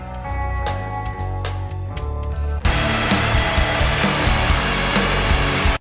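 Shoegaze metal beat, with dense, washy distorted guitars over punchy drums; a sparser opening builds into a loud wall of sound about halfway through.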